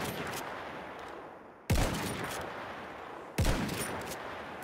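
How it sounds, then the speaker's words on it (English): Gunfire in the video game Battlefield 1 comes as two sharp, loud bursts, each trailing off into a reverberant wash of distant battle noise. "Machine gun, look alive!"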